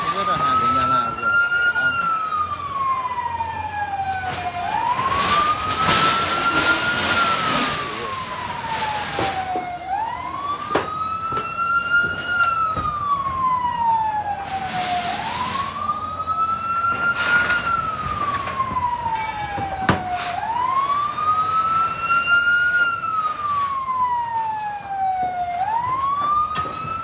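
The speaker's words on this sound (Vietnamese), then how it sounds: "Này có 100 xe cứu hỏa về không làm gì được." Fire truck sirens wail during a large market fire, with a loud rising-and-falling cycle repeating every few seconds and further siren tones overlapping, over crowd noise and voices talking throughout.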